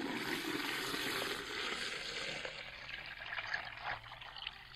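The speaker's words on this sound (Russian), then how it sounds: "Но сейчас я просто водой залью нашу бутылку." Water is poured into a plastic bottle used to water cucumber seedlings, a continuous soft rushing trickle that steadies and fades slightly, faint and close with no talking.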